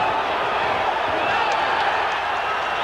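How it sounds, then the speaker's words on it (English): A boxing crowd roars during the fourth round of a Floyd Mayweather fight, reacting to what looks like a knockdown. The noise is a dense, loud, sustained roar with no breaks, and a commentator's voice runs over it. "Crowd yells, but that was a slip. Crowd thought it was a knockdown."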